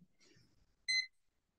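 A small portable visual timer gives a short, bright electronic beep alert, heard once, close and clear after faint quiet handling noise.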